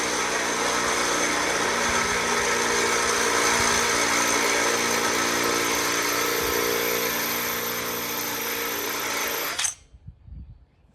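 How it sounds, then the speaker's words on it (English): A power drill with a dull bit grinds steadily through metal while fitting a snorkel to a Toyota FJ Cruiser, a continuous whining drone that stops abruptly near the end, followed by a few faint knocks. "That's got to be the world's dullest drill bit."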